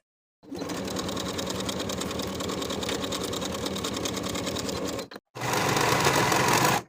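A sewing machine runs in a long, steady stitching burst stitching shoulder seams of a beach cover-up, briefly stops, then starts again loud and close.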